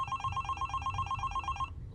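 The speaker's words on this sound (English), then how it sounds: "when the phone rang." A telephone bell rings in a steady repeating trill for about two seconds, then cuts off, set against a low rumbling background in a tense horror-story scene.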